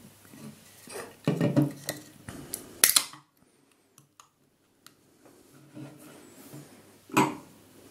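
A can of Love and Hate hazy New England IPA is handled close up with metallic clinks and taps, a sharp hiss as it opens, then quiet with small clicks and one final clank.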